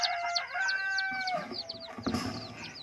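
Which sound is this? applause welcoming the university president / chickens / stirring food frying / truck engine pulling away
chickens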